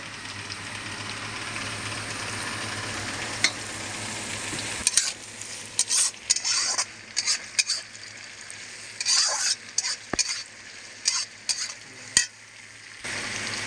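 Chopped onions sizzle and crackle in a frying pan for a chicken kosha, with a steady hiss broken by repeated scraping stirs and clinks of a spatula growing busier toward the end.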